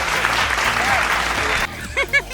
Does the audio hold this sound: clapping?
yes